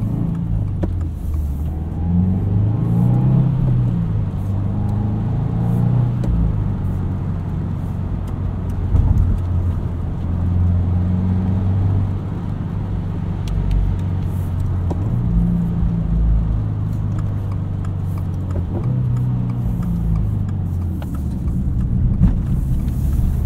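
A 2022 Subaru WRX with a six-speed manual drives along, its engine a steady low rumble that rises and falls with shifts and rev-matched downshifts, heard from inside the cabin with no talking.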